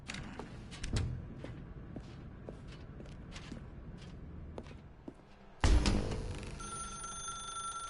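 A telephone rings in the video game The Stanley Parable, alone with no talk, after a stretch of soft footsteps and thuds; the ringing cuts in loud and close and carries on to the end.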